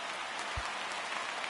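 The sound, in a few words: rain in the video game MLB The Show 19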